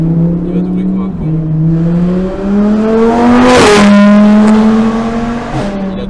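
Car engine heard from a dashcam on a French road during an overtake, a loud steady drone with shifting pitch as speed changes and a sharp burst of noise midway, while people talk over it.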